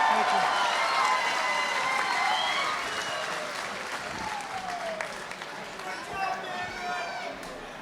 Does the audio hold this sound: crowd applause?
yes